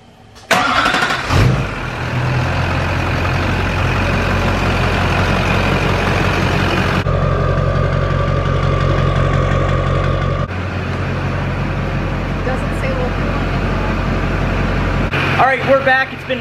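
A diesel truck fitted with an MBRP downpipe and exhaust cranks over and catches, then settles into a loud, steady idle with a deep rumble, while people talk nearby.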